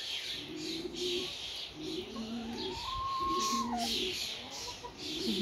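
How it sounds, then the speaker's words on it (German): Backyard hens cluck and coo in soft repeated phrases over a dense, steady wash of chattering starling flock noise outdoors, with no voices present. "Zwischendrin hört man noch meine Hühner."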